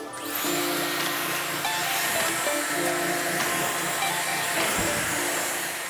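A handheld hair dryer blows steadily while drying freshly washed hair section by section, a continuous close airy whoosh with a faint motor hum that holds even throughout, with no talking.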